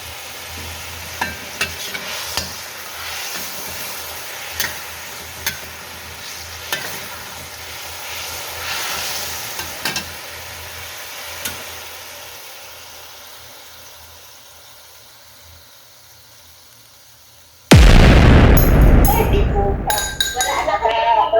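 Chicken adobo reduces in a pan, a soft continuous sizzle broken by periodic clinks of a utensil against the pan, then a sudden loud burst of close handling and clatter near the end.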